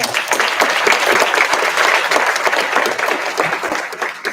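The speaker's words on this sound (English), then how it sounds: "a round of applause for all of them" A reception crowd gives a round of applause for a commissioner's family, loud and sustained clapping from many hands filling the whole stretch without pause.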